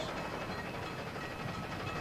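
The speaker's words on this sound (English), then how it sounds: "A train approached on our right and thundered past us." Train thundering past a railway crossing, a steady loud broadband roar with rail rumble, heard close and alone without talk.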